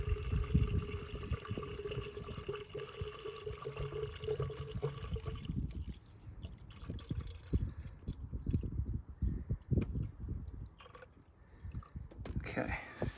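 Water poured from a bottle splashes over a Chevy Cruze heater hose in an engine bay, giving uneven gurgling, splattering and dripping close by, with a quieter patch midway before the splashing picks up again.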